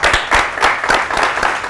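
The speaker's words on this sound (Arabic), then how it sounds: "تصفيق" A studio audience breaks into applause on an Arabic TV talk show after a cold studio greeting, a dense wash of clapping with rhythmic bursts, loud and close, lasting under two seconds.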